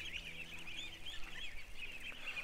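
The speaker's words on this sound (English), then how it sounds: "Oh, my geese are coming right over to me." Geese honk in a faint, continuous gaggle close to the listener outdoors. Their overlapping calls form a busy, chattering layer over a low background rumble.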